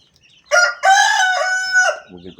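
A rooster crows loudly and close in a lightweight-steel chicken coop housing around 120 hens, a long harmonic call followed by a few low clucks at the end.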